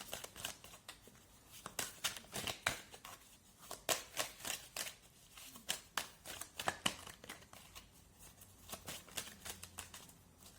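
Tarot cards being shuffled during a reading, a dense run of crisp papery flicks and slaps in uneven bursts, close and fairly soft, with no talk over them.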